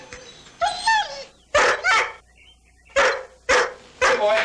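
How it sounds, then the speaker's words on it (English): A neighbour's dog barks in short bursts of two or three, close and loud, with whining, whimpering tones between the barks. "Whose dog is that, anyway?"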